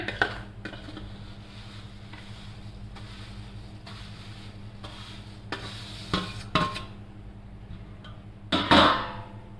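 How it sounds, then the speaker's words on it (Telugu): Vermicelli (semiya) is added and stirred in a pan while semiya payasam is made. Metal scrapes and clanks against the pan in irregular bursts over a low background hum, growing louder toward the end. "సేమియాలను వేసుకుంటున్నా"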